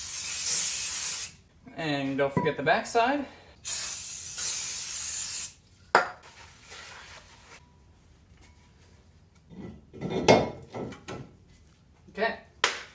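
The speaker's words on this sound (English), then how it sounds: "They ship these brake discs covered in oil, so make sure to spray them down with brake clean." Brake cleaner is sprayed in several hissing aerosol bursts onto an oily new front brake disc for a 2003 Toyota Sequoia, with short pauses and clatter between bursts and someone speaking briefly.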